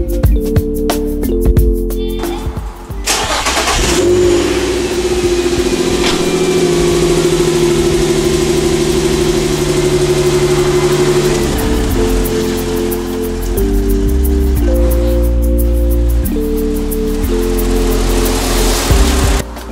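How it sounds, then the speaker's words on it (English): A car and a Jeep are driven and turned around inside a home garage. Engines idle with a steady rumble, and throttle shifts and revving swell and drop over about twenty seconds, loud and close. "Now let's move that car and then turn around the Jeep."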